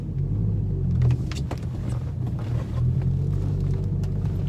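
A BMW M3 with a V8 engine drives on snow tires in winter, giving a steady low engine rumble and road noise that stays close and even, with no talk.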